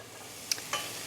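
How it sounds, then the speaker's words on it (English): Mushrooms cook in a pan with a soft steady sizzle, and a couple of brief stirring scrapes come close and quiet over the low frying hiss. "I'm just going to leave this to cook for a while so that the mushrooms get a chance to cook"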